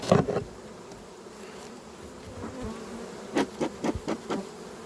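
Honeybees at a hive in Wielkopolska buzz in a low continuous hum as they are shaken off a feeder frame, with a cluster of sharper taps and bursts near the start and again toward the end.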